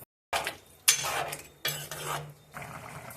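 Green chilli chicken curry stirred in a pan with its paste, several bursts of scraping and clinking of utensil against metal separated by short pauses, fairly close.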